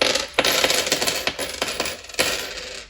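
Loose coins of mixed change clinking and rattling as they are dropped and sorted, with repeated sharp metallic impacts and continuous jingling close by, no voices.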